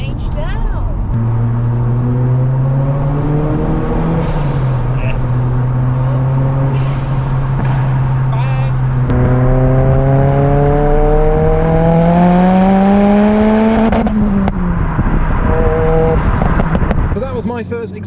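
A Mk1 Ford Focus RS drives with its engine droning and rising in pitch as it revs through the gears, loud and steady throughout, with a fluttering shift near the end; people talk in the cabin over it.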